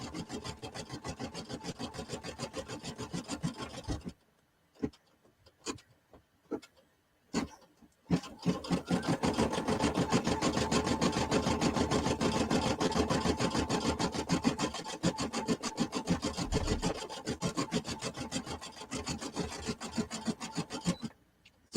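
An embroidery sewing machine stitching fabric, a steady, rapid rasping buzz that stops and starts a few times partway through before running on continuously, close and without talk.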